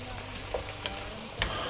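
A Chinese stir fry cooking in a pan, with a steady low sizzle and a few sharp clinks or scrapes of a utensil against the pan at intervals.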